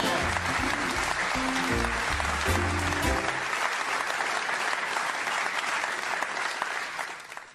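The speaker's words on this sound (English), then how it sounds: "Let's hear it for Claire!" A studio audience breaks into loud, sustained applause with a few cheers, clapping steadily for several seconds before tapering off, with a brief musical sting at the start.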